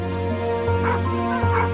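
A dog gives a few short, whiny yips and bow-wow barks close up, breaking into a whimpering tone between calls.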